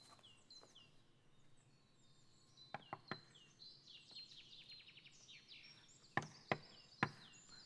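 Knocking on a door, several sharp raps in short bursts, three strong knocks near the end, heard alone over a quiet background with bird-like chirps.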